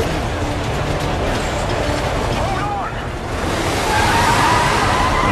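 Rumbling train noise from the video game Modern Warfare 3 with rolling, grinding texture and a brief squealing whine midway, mixed with game background sound, loud and continuous.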